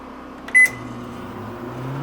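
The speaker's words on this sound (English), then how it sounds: "And I got the microwave plugged in, so we can try that." A microwave oven powered by a Champion 3400-watt dual fuel generator gives a short beep, then settles into a steady low hum that runs alone and fairly quiet throughout.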